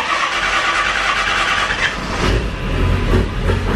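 A diesel truck engine cranks and catches after being refuelled from empty, a steady loud mechanical roar that builds and grows heavier in the low end partway through as it starts running.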